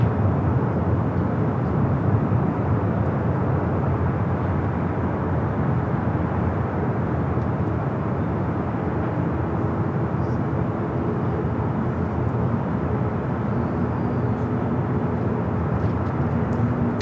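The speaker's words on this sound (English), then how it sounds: "runway 24 right, clear to land. Let's go to a United A321 Neo" Airbus A321neo of United Airlines on landing approach to runway 24 right at Los Angeles International Airport, a steady, continuous broadband engine roar holding at even loudness throughout with no voices.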